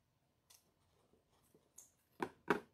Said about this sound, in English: cut your ribbon